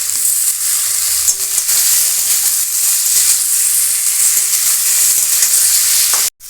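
A cut medium tomato dropped into a hot pan for egg dhoka, giving a loud, continuous hissing sizzle close by that cuts off abruptly at the end.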